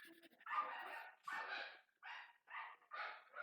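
A dog barks in a run of about five short, rough barks separated by brief pauses, moderately loud and fairly close, with no other sound between them.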